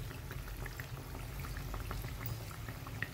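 Bread pakoda deep-frying in hot oil in a small kadhai, a steady low bubbling hiss with faint scattered pops, continuous and close for the whole stretch.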